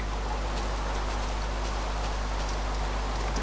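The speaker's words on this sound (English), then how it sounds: "Oh, it's raining." Steady, even hiss of rain falling in Minecraft, a dense wash of droplets with no pauses and no voices.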